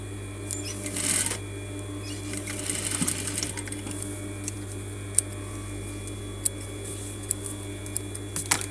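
A sewing machine runs in short bursts of rapid stitching while sewing a coat collar down along the shoulder seam, with light clicks and handling noises at a low, close level and no speech.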